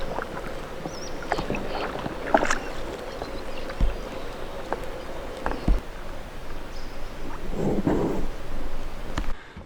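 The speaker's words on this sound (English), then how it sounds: "It's still beautiful and we're still paddling." A cheap canoe is paddled across calm water, with soft splashes and drips from the paddle strokes at irregular intervals, close by, while insects buzz faintly in the background.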